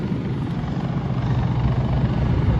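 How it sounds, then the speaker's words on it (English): Helicopter taking off in New York City, a loud, steady rotor and engine roar with deep throbbing low end that holds constant throughout, close and uninterrupted, with no voices. "Let's watch this helicopter take off."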